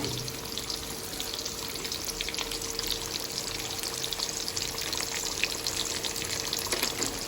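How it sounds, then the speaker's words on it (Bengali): Potatoes fry in hot oil for a Kolkata-style biryani, giving a steady, dense sizzle with crackling bubbles that holds evenly throughout, close and with no talk. "এইদিকে আলুগুলোকে ভেজে নেওয়া হচ্ছে"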